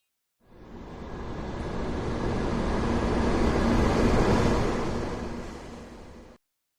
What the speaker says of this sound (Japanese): これは新幹線。